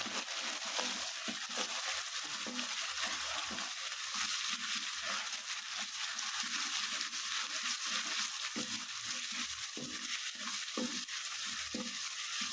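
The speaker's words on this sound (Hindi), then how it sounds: "अदरक लहसुन का पेस्ट डाल के इसकी हम बुनाई करेंगे।" Ginger garlic paste fries and sizzles in a pan for spicy chicken, a steady soft hiss broken by repeated stirring scrapes, close and alone with no talking.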